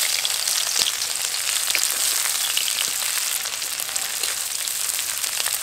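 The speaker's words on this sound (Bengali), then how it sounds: "পেঁয়াজ কুচিগুলো হালকা বাদামি রং ধরা পর্যন্ত খুব ভালোভাবে ভেজে নেব" Chopped onions fry in hot oil with a dense, steady crackling sizzle, loud and close, with occasional pops and nothing else heard.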